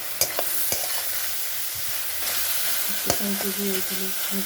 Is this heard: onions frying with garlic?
yes